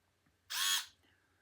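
A battery-operated screwdriver driving a screw, one short whirring burst of under half a second, close and fairly loud, alone in a quiet room.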